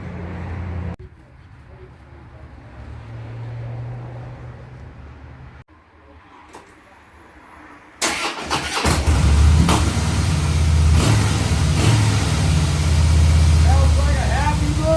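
A 2013 Harley-Davidson Softail FLS motorcycle engine is quiet at first, then catches at about the halfway point and runs loud and rough, a steady rumbling idle.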